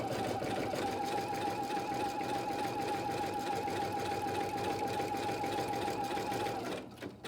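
An embroidery machine stitches a gnome table topper, giving a steady, close, continuous whirring hum with a fast mechanical pulse that runs unbroken for several seconds before stopping abruptly.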